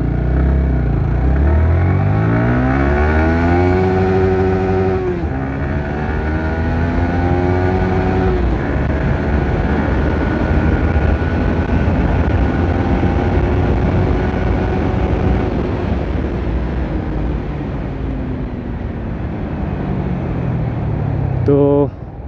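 A Yamaha R15 V3 motorcycle with stock exhaust revs hard and climbs in pitch as it accelerates in first gear, loud and close, with a voice talking over it.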